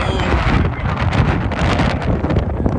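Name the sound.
strong wind on a ferry deck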